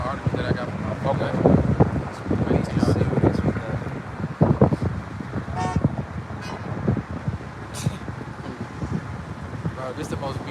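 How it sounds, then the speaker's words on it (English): Car horns honk in city traffic as a light turns green, short toots popping up among wind buffeting and passing cars, with people talking throughout. "As soon as the light turn green, somebody beeping they damn horn."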